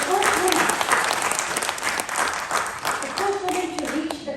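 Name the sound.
audience applause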